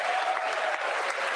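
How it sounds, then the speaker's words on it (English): Members of Congress at the State of the Union give sustained applause, a dense, even roar of clapping from a large chamber crowd, loud and continuous throughout. "He said one sentence and they're clapping"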